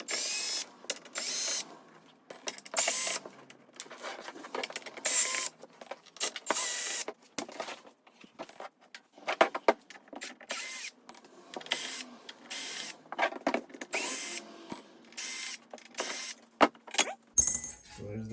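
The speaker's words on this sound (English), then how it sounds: "We'll just pop all these screws out" Screws are worked loose from a panel of a Teac Model 5 tape deck during restoration, with irregular scraping, clicking and squeaky turning sounds scattered close up across a quiet room.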